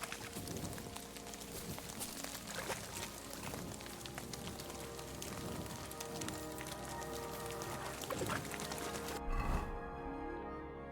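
Continuous rainfall in the video game Kingdom Come: Deliverance II, an even wash of patter and drips with faint low thuds beneath, ending abruptly near the close with a brief dull knock.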